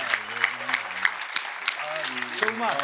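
Scattered applause from a crowd at a Corsican rally event, light clapping heard under someone talking over the top.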